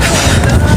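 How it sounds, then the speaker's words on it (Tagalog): Loud, blustery wind buffets the microphone, a dense low rumble with rustling gusts that swamps everything else. "Ayan na naman yung hangin."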